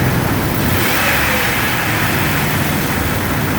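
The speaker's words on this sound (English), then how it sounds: "Seems to be running smoother. I don't see the engine shaking as much as it was before." A Jeep Wrangler engine idles steadily after a spark plug replacement, a loud, even, continuous rumble with no pauses or revving.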